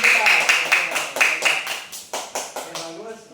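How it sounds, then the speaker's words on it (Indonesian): A small group claps for players in a classroom teaching session: a burst of quick, uneven hand claps that thins into a few scattered claps and fades out, with some voices mixed in. "tepuk tangan untuk pemain kita"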